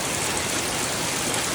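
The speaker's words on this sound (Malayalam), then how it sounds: "പുറത്ത് നല്ല മഴയാണ്" Heavy rain falls steadily outside, a dense, even hiss with no breaks that holds at the same level throughout.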